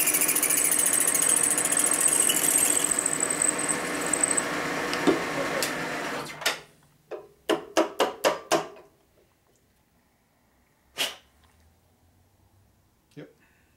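Full-size drill boring a hole in a Harley Evolution engine case during a 2000 FXR 80ci motor rebuild, whirring steadily, then winding down into a run of sharp bursts and a few isolated clunks.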